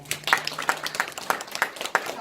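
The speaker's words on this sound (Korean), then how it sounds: "선생님에게 다시 한번 큰 박수 부탁드립니다" Audience at a Korean history lecture orientation applauding after the talk, a steady patter of many hands clapping at moderate distance for a couple of seconds.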